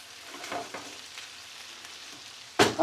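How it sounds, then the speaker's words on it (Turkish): Onions and potatoes sautéing in a pot for a meaty green bean stew, a soft, faint sizzle with light stirring scrapes, then a sudden louder hiss near the end. "Bir kavuralım güzelce gene."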